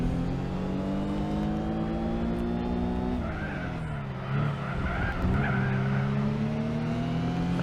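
Nissan R32 Skyline race car in Gran Turismo 4, its engine droning at high revs, dipping and rising through gear changes while the tires squeal and skid through corners, loud and continuous with no voices.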